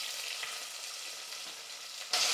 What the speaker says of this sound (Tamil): இப்போ இந்த வெங்காயத்தை சேர்த்துடுறேன்.